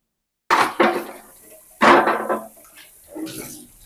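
Soapy fridge shelves are scrubbed by hand with a sponge cloth, producing bursts of wet rubbing and splashing with brief clatter, in three separate spells close up with no talking.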